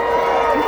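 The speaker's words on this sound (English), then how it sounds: "Give me a cheer if you love your mum" A crowd of adults and children cheers loudly at a live show in answer to a call from the stage, a brief dense burst of shouting and whooping close to the microphone.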